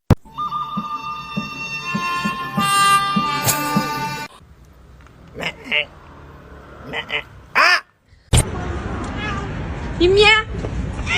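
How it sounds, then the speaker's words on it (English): A scared cat meows in a series of drawn-out, wavering cries, loud and close, with human voices and noisy movement around it. "You meow."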